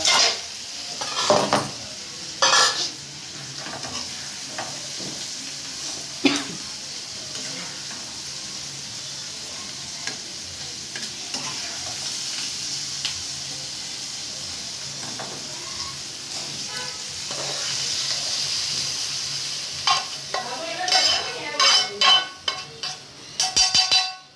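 A spoon stirs grated bottle gourd and chopped coriander into yogurt in a bowl, making soft, steady scraping and swishing strokes close by, with a few sharper clinks and clatters toward the end.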